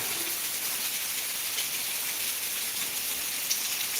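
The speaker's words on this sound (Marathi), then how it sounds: "सकाळचा आता खूप जोराचा पाऊस सुरू आहे" Heavy morning rain in Beed, Maharashtra, pours down in a steady, dense hiss that never lets up, with no voices over it.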